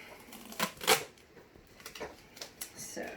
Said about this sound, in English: I'm going to put my tape on there.